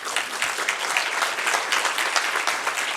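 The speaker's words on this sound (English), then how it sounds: "A round of applause," Conference audience applauding after a talk at the 2024 Swedish Conference on Ultra-Early Intervention, a steady, dense patter of many hands clapping that stays even for three seconds, filling the hall without any voices on top.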